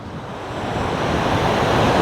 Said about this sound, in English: I'm hoping the wind is okay on this. I'm trying to cover the mic.